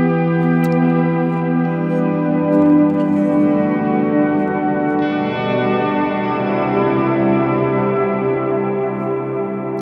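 Electric guitar through a big ambient reverb without shimmer, sustained chords swelling into a warm, smeared wash that rings steadily and loud throughout, played alone with no talking.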